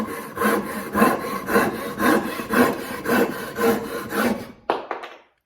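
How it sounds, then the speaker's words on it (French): A Japanese crosscut saw cuts through a piece of wood clamped in a vise, with about ten even, rhythmic rasping strokes close up that end in a final scrape and then silence. "Donc, je vais commencer avec la scie à tronçonner."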